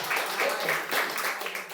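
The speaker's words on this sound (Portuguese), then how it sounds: "a tua amada igreja que está diante de ti e que te oferece um lindo aplauso maravilhoso nesse instante" A church congregation applauds in a short, lively burst of many hands clapping together, with a faint voice mixed in.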